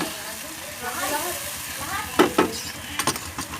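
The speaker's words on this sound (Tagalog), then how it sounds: "Kumukulo na po siya." Chicken adobo bubbling and sizzling in a pan, with a soft stirring clatter and a few sharp utensil knocks near the end.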